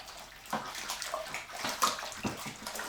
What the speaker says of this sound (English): Then we basically just stir it in. We need everything mixed into this.